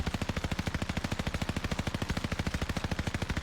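A DP27 machine gun fires in a video game with a 100-round magazine: one long, rapid, perfectly regular burst of loud, punchy shots that fills the whole stretch without pause.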